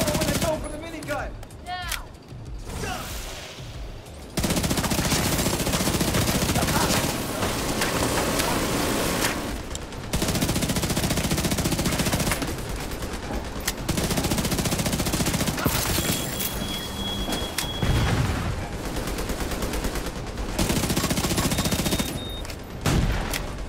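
Heavy gunfire and sustained minigun bursts in The Division 2 during a solo invaded mission at the National Zoo on challenging difficulty, loud dense volleys with brief lulls and sharp single shots.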